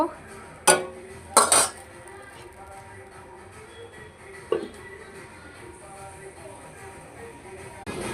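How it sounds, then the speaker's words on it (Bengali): A metal lid clanks onto a pan of small-fish tomato curry with a few sharp clatters, followed by a quieter knock and soft kitchen noise. "আবার আমি 2-3 মিনিট মতো ঢাকনা দিয়ে দেব।"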